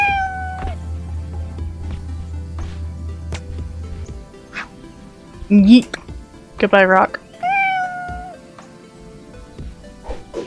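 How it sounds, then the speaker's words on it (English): A cat meows repeatedly in several rising, drawn-out cries amid scattered clicks and background sounds, while a person speaks briefly nearby. "Hello, kitten."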